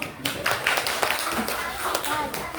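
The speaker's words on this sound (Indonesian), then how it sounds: "kembali kita memberikan aplaus" A classroom of students gives a round of applause, with close, brisk clapping that is steady for a few seconds, and children's voices mixed in.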